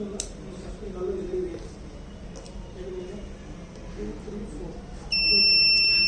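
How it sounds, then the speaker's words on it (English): A gas leak alarm's buzzer on a PIC microcontroller sensing board, triggered by gas from a lighter, comes in near the end as a loud steady tone over room noise and faint talk. "So whenever it will observe the gas, it will give buzzer alert."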